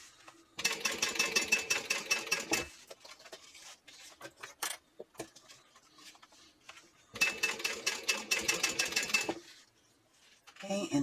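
A sewing machine stitches the outer seam of a clutch bag in two slow, steady runs of rapid rhythmic needle clatter, with a quiet gap of small handling noises between them.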